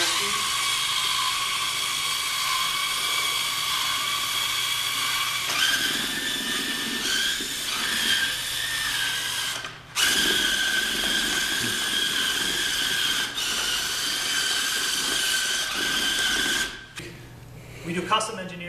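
A custom vectoring mobile robot's lift motor runs at full speed with a steady high-pitched electric whine and squeal, nearly continuous with a couple of brief dips and a change near the end.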